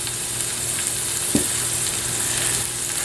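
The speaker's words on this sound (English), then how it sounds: "saute a little bit, get a little bit of color on it for a minute or two" Worcestershire sauce sizzling as it sautés in a hot pan for a Southwest meatloaf, a steady, loud frying hiss throughout with a brief stirring scrape in the middle.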